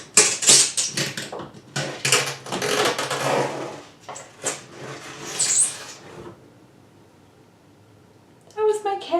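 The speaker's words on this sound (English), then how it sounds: "Crawled on top of it and was scratching at the back of my studio and then like fell or something." A cat scratching at a box-shaped studio and tumbling off: a run of scratchy, clattering bursts close by, then a quiet stretch before a final rustling clatter near the end.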